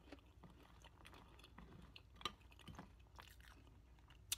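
Crunchy breakfast cereal is chewed close to the mic, with quiet repeated crisp crunches and wet mastication in an irregular rhythm, no talking.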